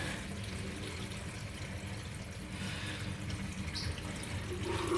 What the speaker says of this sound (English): So I'll pop the drain.